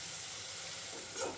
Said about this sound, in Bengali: যেটুকু তেল ছিল তার মধ্যেই কিন্তু পেঁয়াজটাকে একটুখানি হালকা ভেজে নেব